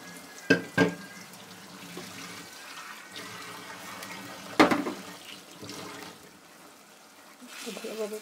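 Water poured into a pot of beef and moong dal curry with onions and dry chilli spices, a steady liquid splash and sizzle with a few sharp clatters of utensils near the start and middle.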